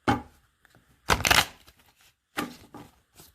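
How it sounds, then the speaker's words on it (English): Several short riffling bursts of tarot cards being shuffled close by, separated by brief quiet pauses. "I love the sound of a shuffled deck"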